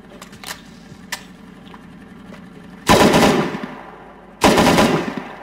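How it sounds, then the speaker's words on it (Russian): Gunfire in the game Rust. A few faint single shots are followed by two loud, close bursts of rapid automatic fire, each lasting about a second and ringing out afterward. No one speaks. "Я вижу, откуда он стреляет."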